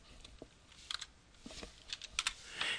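Typing on a computer keyboard while entering an order into event-booking software: irregular bursts of crisp key clicks with short pauses, close and moderately quiet.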